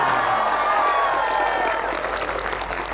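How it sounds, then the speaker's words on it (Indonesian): A university audience of new engineering students applauds, a dense steady wash of clapping that fills the hall and fades slightly toward the end. "kasih tepuk tangan dong buat dia"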